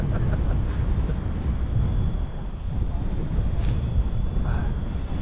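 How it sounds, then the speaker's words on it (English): Strong, freezing wind blows across the Conwy estuary during a winter cod fishing trip, a continuous loud low rumble and buffeting against the microphone, with faint water noise beneath. "It's blowing an absolute bloody hoolie, guys. And it's freezing."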